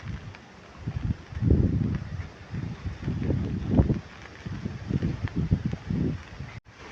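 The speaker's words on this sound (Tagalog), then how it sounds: "Yan, mahangin na mga idol." Gusty typhoon wind buffets the microphone in uneven surges, rising and falling over a low rumbling roar, with no voices.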